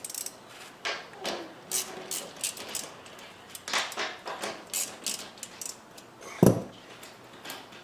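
Ratchet wrench with a 13mm socket backing out bracket screws during a subwoofer install in a Ferrari 360/430 coupe, giving short bursts of close clicking in irregular spurts.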